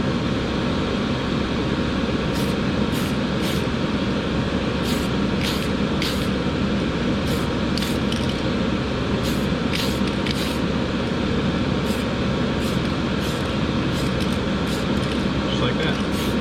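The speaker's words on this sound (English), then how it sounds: "I'm just going to do a couple of light mist coats on top of gray primer" Spray paint misting light coats over gray primer on a model car kit, with short hissing bursts repeating through a loud steady background roar.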